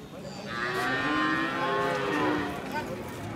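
Bull at a livestock market letting out a single long, loud, close moo that swells and fades over a few seconds, with faint market background around it.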